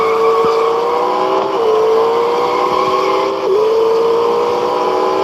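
A McLaren race car at Silverstone in the Real Racing 3 video game, its engine a loud, close, sustained drone that rises steadily, dips briefly at two gear shifts, then climbs again.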